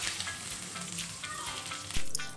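Potato pieces frying in hot oil in a pan on a medium flame for an Odia prawn and potato curry, giving a steady continuous sizzle with a brief stir and clatter near the end.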